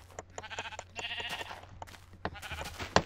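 Sheep bleats in a video game, several short nasal cries in quick succession over game sound effects, fairly close and clear.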